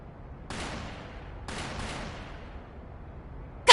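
Bursts of distant gunfire from a neighboring district in the video game Trails Through Daybreak II: two rattling volleys of rapid shots, each fading out. A sharp louder sound comes in at the very end, and there is no talking.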